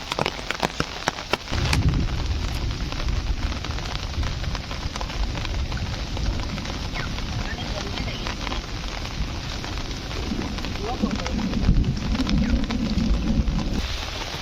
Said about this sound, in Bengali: এখন হালকা বৃষ্টি হচ্ছে, আবার পুরো মেঘ করে আছে।